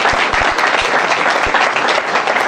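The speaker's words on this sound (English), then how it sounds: "with a resounding round of applause, let's welcome the man of the moment, Alan Kojo Tremanting." An audience applauds to welcome a speaker at a live youth dialogue event in Ghana, a dense continuous round of clapping that holds steady and loud throughout.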